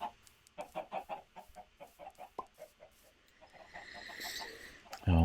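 Minecraft chickens cluck in a rapid run of short, regular clucks, close and fairly faint, followed by a rising rustle and a sudden thump at the end.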